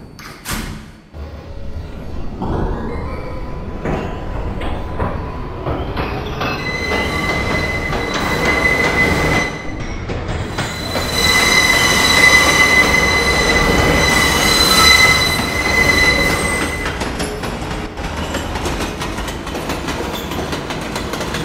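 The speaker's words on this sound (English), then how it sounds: "This train is a Pelham Bay Park-bound 6 local train." A New York subway 6 local train bound for Pelham Bay Park departs, its wheels squealing loudly and steadily over a heavy rolling rumble, with the screech swelling toward the middle before easing off.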